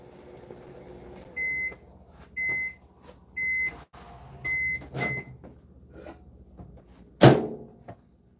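Microwave oven beeping four times in a steady run of short tones as keys are pressed, then a clunk and the hum of the oven running, ending with a loud sharp knock, in a quiet kitchen with no speech.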